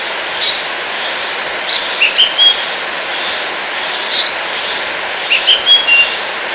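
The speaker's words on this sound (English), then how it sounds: "The seagulls that you see behind are nearly 5 to 6 different species come to Goa." Seagulls of several species wintering on the Goa coast give short high calls, a few isolated cries early and a quick cluster near the end, over a steady wash of background noise.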